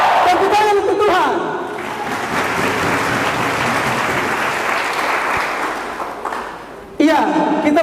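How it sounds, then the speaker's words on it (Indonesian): A church congregation bursts into loud, sustained applause and cheering, a dense wash of many hands clapping that swells and fades, with voices calling out at the start and end. "Tepuk tangan untuk Tuhan."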